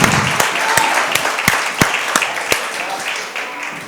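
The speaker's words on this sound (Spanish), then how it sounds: "Dale palmas al Señor." Church congregation clapping along in worship, a run of sharp rhythmic claps over a dense wash of applause with voices mixed in underneath.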